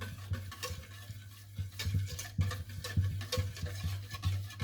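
Panna cotta cream mixture being stirred in a pot, with quick repeated scraping and ticking strokes over a steady low hum, close and moderately loud.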